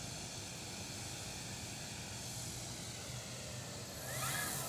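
A 70 inch Slick RC model airplane drones steadily throughout, its engine note at a distance and swelling louder near the end as it passes closer.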